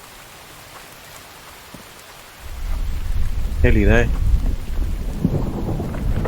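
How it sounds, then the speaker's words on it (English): Steady rain pours and a rolling peal of thunder builds at the top of a crystal tower in the horror game The Infected, loud and close, after a brief spoken line. "Not a good place to be in a thunderstorm though,"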